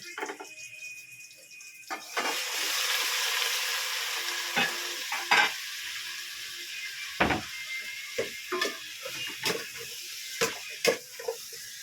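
Chicken fries with garlic and onion in a pan, a steady sizzle broken by repeated sharp scraping and stirring clicks of a utensil against the pan.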